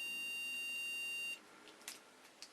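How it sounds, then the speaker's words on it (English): Continuity tester beeping as its probes touch either end of a coach lighting part, a single sustained electronic tone lasting over a second, then cutting off to faint handling noise. "I'll shove this in the other end and it should go beep."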